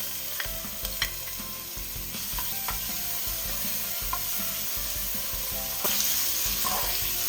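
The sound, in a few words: ginger and garlic sizzling in vegetable oil in a pot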